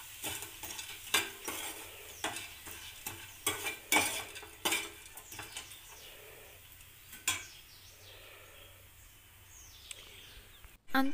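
Maggi noodles for street-style maggi bhel get stirred in a pan over high flame with salt, chilli powder and pepper, scraping and clattering strokes repeating over a soft sizzle, close and alone.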